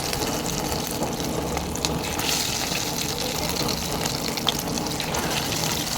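Prawn pakodi frying in hot oil over a medium flame, a steady dense sizzle and crackle with no breaks, close and even, without speech.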